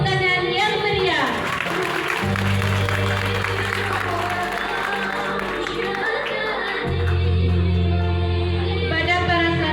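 An audience claps for graduating madrasa students at an end-of-year ceremony in Bumiaji, producing a broad wash of applause. Low musical tones and a voice run underneath it, with no distinct words.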